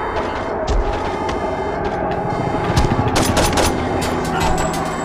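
Saints Row 2 gunfire during a prison break, steady rattling shots over a dense, loud game soundscape, with a burst of sharper reports midway and no clear talk.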